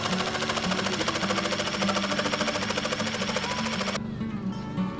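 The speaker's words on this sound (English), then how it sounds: "I'm taking the jigsaw and rough cutting out the center" A jigsaw rough cuts the center out of a black poisonwood burl, its blade buzzing in a rapid, steady reciprocating chatter up close, then dropping off sharply near the end.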